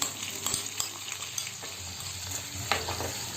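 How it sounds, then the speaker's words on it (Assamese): Finely chopped ginger, ground jaluk and chili paste fry with pork in a pan for a spicy Naga-style dish, a continuous close sizzle broken by repeated scraping stirs. "এতিয়া মই মিহিকৈ কাটি ৰখা আদাখিনি আৰু লগতে পিহি ৰখা জালুকখিনি দি দিছোঁ আৰু লগতে জলকীয়াৰ পেষ্টটো দিছোঁ।"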